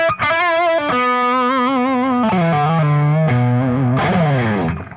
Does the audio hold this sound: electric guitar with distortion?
yes